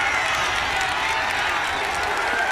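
Lacrosse crowd at an NCAA tournament game between Syracuse and Princeton, a steady wash of cheering and applause filling the whole moment with no break, loud and broad, with a commentator's voice faintly mixed in.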